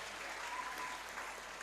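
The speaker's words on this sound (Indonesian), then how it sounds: "Oke, tepuk tangan untuk Faza." Steady applause from an audience at a 2021 school graduation ceremony fills the room, continuous and even throughout with no pauses.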